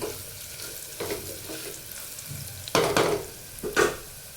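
A spoon scrapes and stirs cloves and peppercorns through sizzling oil in a pan, several distinct strokes with louder clatters toward the end, heard up close.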